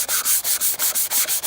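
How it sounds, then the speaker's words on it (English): A car headlight lens is hand-sanded with 180 grit sandpaper in quick rhythmic back-and-forth strokes, about eight close, raspy scrapes in rapid succession with no talking. "I'm using the 180 grit right now. Just sanding it down"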